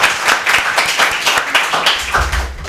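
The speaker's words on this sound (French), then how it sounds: "On applaudit ça s'il vous plaît, cher public. Encore plus fort s'il vous plaît" A studio audience at a school quiz game show applauds the winning team with steady, dense clapping, loud and close throughout, easing slightly near the end.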